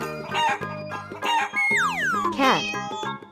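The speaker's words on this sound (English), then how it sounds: "Chicken." A chicken clucks in short bursts, then a rooster gives a loud, drawn-out crow, with a few more clucks after it. The sounds are close and clear, with no talking.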